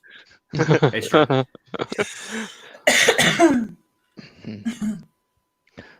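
Someone coughs in harsh, repeated bursts mixed with throat clearing during an improv show, close and loud, with short pauses between the spells.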